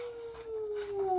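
A storyteller imitates a wolf-like howl, a single faint, steady tone gliding slightly downward for about a second.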